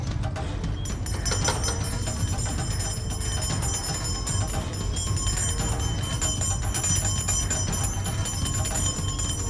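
A bell rings inside a house, with sustained high shimmering tones and repeated strikes running continuously over a busy, noisy background.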